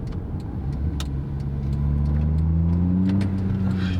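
A car's engine drones loudly from inside the cabin with the windows closed, its pitch climbing as it revs, with brief clicks and shifts along the way.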